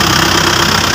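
An Isuzu Hilander engine runs loudly up close with its crankshaft main pulley stopped, a dense, steady mechanical roar with a rough, knocking vibration throughout.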